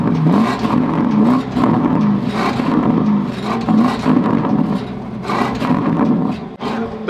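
Porsche Cayenne Turbo GT engine revving at standstill, repeated loud throttle blips against a rev limiter, rising and falling in a choppy rhythm near the microphone.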